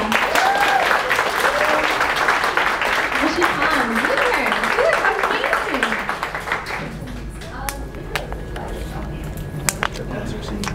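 A panel audience at a creator day event in Atlanta breaks into loud, sustained applause for a presenter, with cheering voices and someone speaking over it before the clapping thins out into scattered claps.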